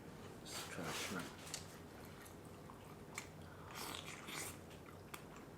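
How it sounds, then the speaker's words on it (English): Shrimp from a spicy crawfish boil with fiery Samyang-style sauce being bitten and chewed close to the mic, moist repeated bites and squishy chewing with brief crunchy snaps, steady low background noise, no talking. "Let's try the shrimp."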